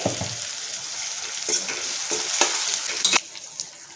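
Onion and tomato are stirred and fried together in a pan for a stuffed brinjal curry. A busy sizzle runs under repeated scraping stir strokes in irregular bursts, close and fairly loud, with no voices.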